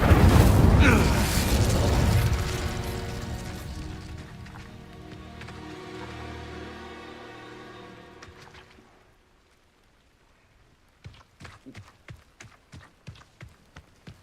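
A fiery Incendio spell erupts in a witch-themed game, a loud roaring burst that trails off over several seconds into quiet, followed by a run of light, evenly spaced footstep-like clicks.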